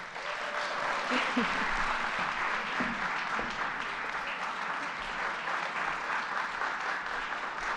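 An audience applauds at a state governor's mental health announcement, a steady wash of many hands clapping at moderate distance throughout, with faint low voices underneath and a few brief louder claps near the start.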